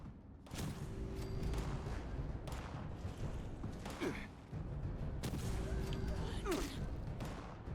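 Gunfire in Fallout 76: two loud bursts of shots with booms and crackling, separated by a short lull, heard close up over game ambience.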